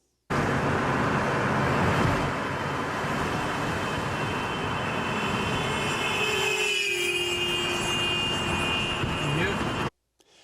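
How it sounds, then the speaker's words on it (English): A parked car's horn is held down in one continuous blare as the listener drives past, its pitch dropping noticeably midway as the car is passed, all over steady road and engine noise. "the car parked is holding down the horn honking, and then the observer drives by that"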